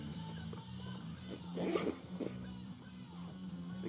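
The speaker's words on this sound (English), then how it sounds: "Can yank on these zippers, like yank on them like you wouldn't believe it." Zippers on a get-home bag are yanked hard, giving one quick rasping zip near the middle over a steady low hum. The sound is close and fairly faint, and no one speaks.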